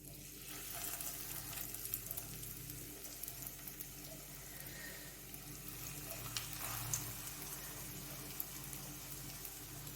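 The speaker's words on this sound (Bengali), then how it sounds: "তেল গরম হয়ে গেছে আমি একটা একটা করে ছাড়ছি" Soybean cutlets fry in hot oil with a steady, fairly quiet sizzle that holds for the whole stretch, with small crackles and pops rising and falling and no voices.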